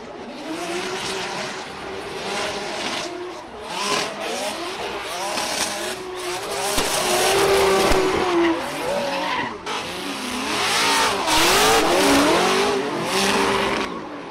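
Formula Drift race cars slide through corners at a drifting competition, engines revving hard as tires squeal in long, wavering shrieks, loud and continuous with repeated surges.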